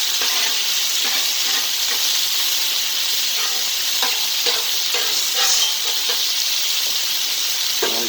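Steak and butter fry on a flat top griddle, giving a loud, continuous close sizzle and hiss with occasional scraping stirs, no voices over it.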